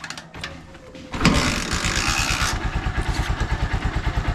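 A Honda Supremo motorcycle engine cranks and catches on the second try, then settles into a loud, close, rhythmic idle with a rapid pulsing beat.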